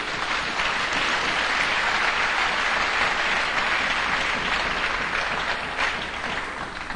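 A church congregation bursts into loud, sustained applause, a dense continuous wash of clapping filling the room for several seconds, with no one speaking over it.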